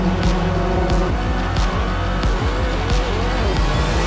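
Race cars launching at the start of a Sao Paulo race in the Monoposto video game: loud, continuous engine roar with repeated rising gear-shift sweeps as the pack accelerates away.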